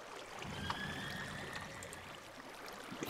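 Flowing water in the Minecraft video game, a soft continuous trickling rush at low level with faint tonal streaks, and no talking over it.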